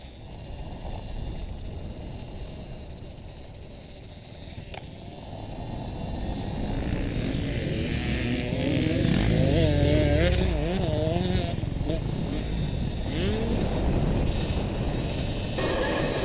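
An Apollo RFN Ares Rally Pro electric dirt bike riding on an MX track, a steady whining motor rising in pitch and intensity as it accelerates, with wind rush and rattling, no voices.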